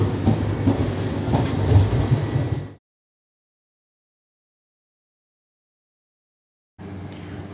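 Ganadevta Express heard from inside an AC three tier coach, a steady rumbling roll of the train, then abrupt silence for several seconds before the running noise resumes more quietly.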